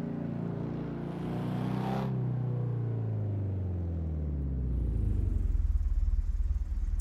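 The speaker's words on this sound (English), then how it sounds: "This car sounds so nice though." A vintage Alfa Romeo Giulietta Spider racing in Assetto Corsa at Donington Park, its engine revving high and then dropping in pitch through a long shift-down before climbing again into a rough, pulsing drone, loud and close.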